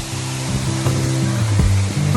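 A large waterfall on a Colombian coffee-region property pours in a loud, dense wash, with low droning hum and brief rumbling tones layered over the steady rush.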